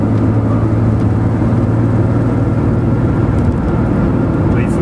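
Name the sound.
Porsche 911 Carrera 3.2 with SCART exhaust at steady revs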